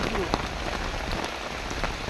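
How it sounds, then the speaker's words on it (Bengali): Heavy rain falls steadily and loudly, pattering close by on surfaces in a dense, unbroken wash of drops. "হেভি বৃষ্টি হচ্ছে সেই বৃষ্টি হচ্ছে আজকে"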